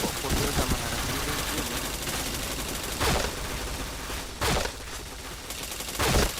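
Gunfire from a shooting video game, with dense rapid bursts running throughout and several louder sharp volleys standing out at intervals; a voice talks faintly underneath.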